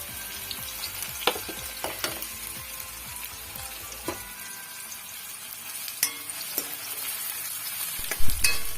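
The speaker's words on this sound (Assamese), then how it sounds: "এয়া তেল গৰম হৈ গৈছে, এতিয়া মই দি দিম আগতে কাটি লোৱা পিঁয়াজখিনি।" Chopped onions go into hot mustard oil in a kadai for a bottle gourd and black gram curry, a steady close sizzle broken by scraping stirs and a few sharp clinks of the spoon against the pan.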